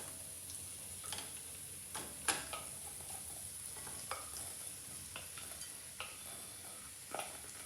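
Cubanelle peppers and onions with fresh garlic sizzle faintly and steadily in a frying pan, broken by sharp clicks and scrapes of stirring at irregular moments; no one speaks.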